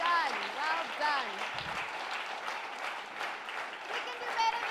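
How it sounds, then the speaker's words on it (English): Audience applauding an award-winning school team at a reading competition prize-giving, steady clapping throughout with a voice talking over it. "Let's give them a big round of applause."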